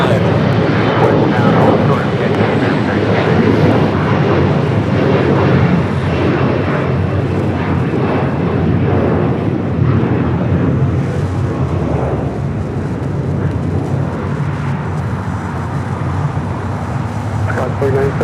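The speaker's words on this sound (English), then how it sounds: "A330-200, your next heavy arrival here on the south side." An Airbus A330-200 heavy jet arriving on the south side at LAX produces a broad, steady rumbling roar that holds loud throughout, with a voice talking over it.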